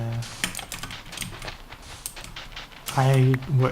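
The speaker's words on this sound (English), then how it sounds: "this one is I really like this keyboard. It's a mechanical keyboard" Quick clicking keystrokes on a mechanical keyboard rattle close by in an uneven patter, with a person starting to talk over them near the end.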